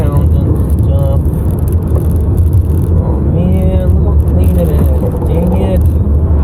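A car driving on a cleared but slippery snowy road, its engine hum and tire rumble loud and continuous from inside the cabin throughout, with people talking over it.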